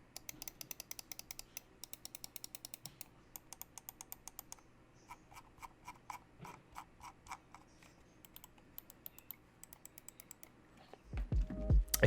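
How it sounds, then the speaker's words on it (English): Rapid, crisp button clicks from a Logitech G203 Lightsync budget gaming mouse, snappy and close, firing in quick irregular bursts over a quiet background, with a thump of handling near the end. "I'll do a little button test right now."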